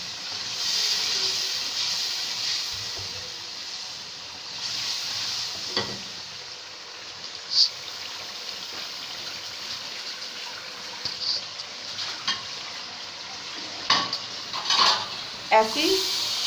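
Potatoes fry in hot spiced oil for aloo matar curry, with a steady sizzling hiss under repeated scraping and clinking of a spoon against the pan, growing sharper and more frequent near the end.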